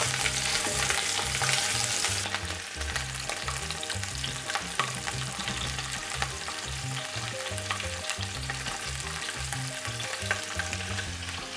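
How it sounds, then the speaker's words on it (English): Lamb shank frying in hot oil, a loud, steady sizzle and crackle running throughout with a bright hiss at the start and faint scraping underneath. "Once the oils are hot, then you start to put your lamb shank inside."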